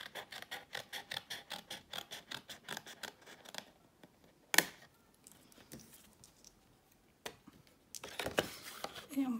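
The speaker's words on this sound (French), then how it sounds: "Moi personnellement, je vais y aller au ciseau." Scissors cut through paper card for a handmade pull-tab greeting card, giving a steady run of rhythmic close snips followed by a few isolated cuts and light rustling of the card.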